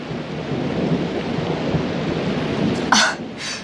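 Loud thunder rolls through a rainstorm as a deep, sustained rumble over steady rain, ending with a brief sharper burst near the close.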